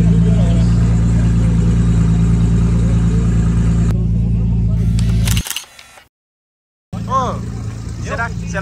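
Nissan GT-R engine droning loudly at a steady rev for several seconds, then dropping into a brief silence before the engine sound returns alongside nearby voices.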